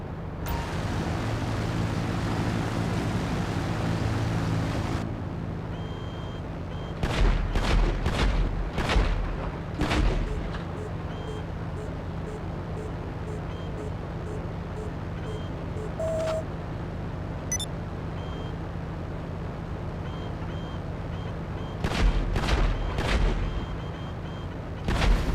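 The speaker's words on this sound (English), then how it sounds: "the 40mm cannons in this thing" Bursts of 40mm cannon fire from an aircraft in the video game GTA Online, two clusters of rapid heavy booms over a steady engine drone, loud and close.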